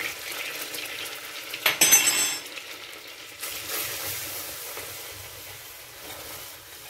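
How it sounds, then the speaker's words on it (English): Butter and flour cooking into a roux for white sauce, a low sizzle with scraping and stirring against the pan, a louder rustle of stirring briefly rising before settling back to a gentle fry. "I'm starting with about 3 tablespoons of butter. And now I'm adding flour."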